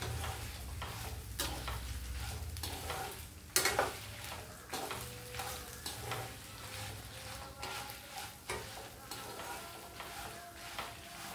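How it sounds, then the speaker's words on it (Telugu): Food fries in a hot pan, sizzling steadily up close while a utensil scrapes and clinks against the pan in irregular stirring strokes, with one sharper knock partway through. "బాండి వేడిగా ఉంది కదండి, బాగా అన్నీ వేగాలి, బాగా వేగిపోవాలండి."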